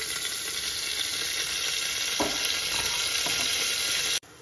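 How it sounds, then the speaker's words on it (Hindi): Ghee sizzles loudly in a hot pan as a dense, steady hiss with a couple of faint knocks. The sound stops abruptly at the end, with no one speaking. "और एक बार मैं डाल देती हूँ घी।"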